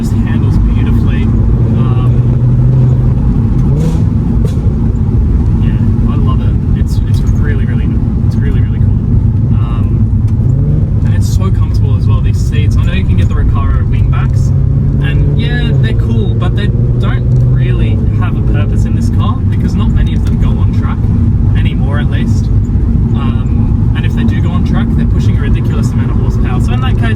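A 2008 Volkswagen Golf R32 Mk5 hot hatch on the move, its engine and road noise forming a loud, continuous low drone with shifting tones while someone talks over it throughout.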